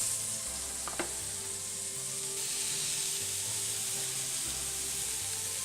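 Beef searing in a stainless steel pan for a stir fry gives a steady, even sizzle close by, with a faint clink of a tool near the start and no voices.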